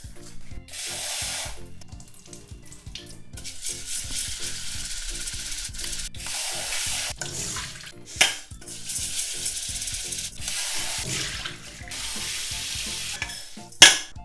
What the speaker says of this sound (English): Then first we're gonna rinse the rice.